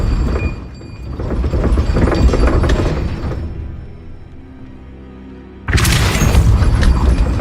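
Spell effects from the Hogwarts Legacy video game, including the Depulso force-push spell, sound as loud booming, crashing bursts that fade to a low tonal hum before another sharp, bright blast hits near the end.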